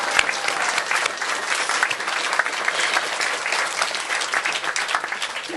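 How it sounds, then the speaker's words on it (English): A ribbon-cutting ceremony audience at a cancer center gives sustained, crisp applause, dense and even throughout with many hands clapping nearby. "Please help me give them a round of applause for everything they've done."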